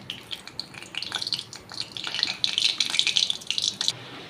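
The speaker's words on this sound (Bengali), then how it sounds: "কড়াইতে তেল দিয়ে দিয়েছি এবার দেবো কালো জিরে তেজপাতা" Black cumin seeds and bay leaf hitting hot oil in a wok, a bright crackling sizzle that builds and stays busy for several seconds, close and without talk.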